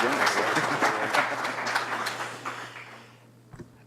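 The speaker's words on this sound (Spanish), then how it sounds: "Un aplauso, por favor." An audience at an international seminar on bioethics law and human rights in a lecture hall applauds steadily, then the clapping thins out and fades toward the end, leaving near silence.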